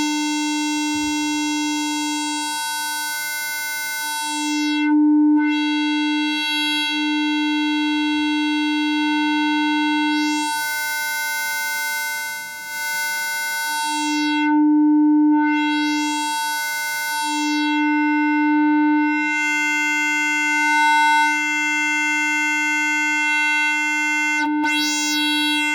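A steady, buzzy synth tone through a polynomial shaper distortion, with harsh, bright harmonics that swell and pull back as the distortion changes, sustained and loud with no voices.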